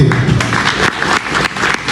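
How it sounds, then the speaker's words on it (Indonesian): A stand-up comedy audience in Jayapura applauds the MC with loud, close, dense clapping and a few sharp thumps, sustained for the full two seconds with no speech over it. "kasih tepuk tangan dulu untuk MC"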